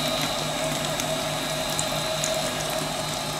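A running continuous flow centrifuge hums and whirs with a steady mechanical drone and tonal whine while water flows and splashes through it, constant and close with no talking.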